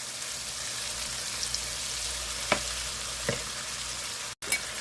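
Sausages frying in a hot pan give a steady, dense sizzle throughout, close and even, broken by a few soft taps of a utensil and a brief cut near the end.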